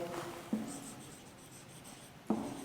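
Chalk scratches steadily across a classroom board as a teacher writes, with two sharper taps marking strokes, faint and close.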